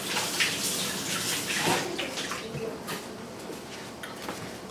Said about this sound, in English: I need to rinse soap out of my hand.